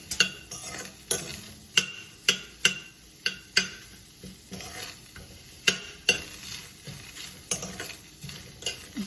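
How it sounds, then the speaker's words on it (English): A spoon stirs chopped onion and serrano chili in a pan without oil, sending sharp, regular scrapes and knocks against the pan over a soft sizzle, close and fairly quiet. "Give it a good stir"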